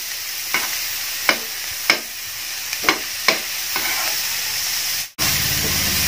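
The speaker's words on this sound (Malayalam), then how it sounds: "അതിനുശേഷം നന്നായിട്ടൊന്ന് വഴറ്റിയെടുക്കാം." Onions sautéing with salt in a pan for a bread-filling snack: a steady sizzling hiss with about five sharp spatula scrapes, close and fairly loud, then a brief dropout near the end.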